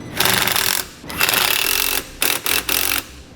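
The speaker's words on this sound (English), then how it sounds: "I'm going to take a couple self-tapping screws and put them in place right here." Self-tapping screws driven into a base plate with a power driver while installing a Roadmaster Universal Hy-Power diode wiring kit, giving several loud, close bursts of buzzing, rattling whir separated by short pauses.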